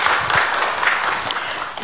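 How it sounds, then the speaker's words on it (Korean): Audience at a church letter-reading lecture applauding, a brief burst of dense clapping that stays steady and close throughout. "박수 보내주시기 바랍니다."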